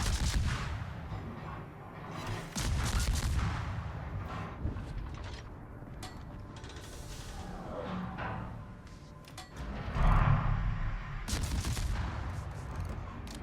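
Naval ship guns boom in World of Warships, heavy rumbling salvos with dull thuds rising and fading over a constant low battle roar, one louder burst of shellfire near the end.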